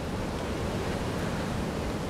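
Surf at Imperial Beach in San Diego, California, makes a steady broadband wash of rolling waves, moderately loud and unbroken throughout.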